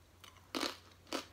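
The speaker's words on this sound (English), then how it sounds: "So good, so crunchy." Two crisp, loud bites into a pizza with a two-ingredient dough crust, each a short crunchy burst about half a second apart, close to the mic with quiet in between.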